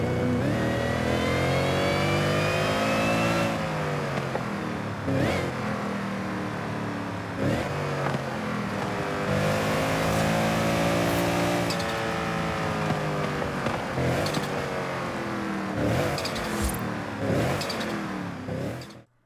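A turbocharged car engine in the video game Forza Horizon 5 revs hard and continuously, its pitch climbing and dropping through gear changes, loud and close with no talk.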